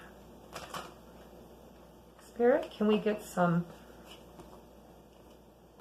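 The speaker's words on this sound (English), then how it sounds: "I'm going to shuffle over here because my table's small." Oracle cards being shuffled at a small table, giving a few short papery riffling bursts in quick succession between quiet stretches, with someone talking softly before and after.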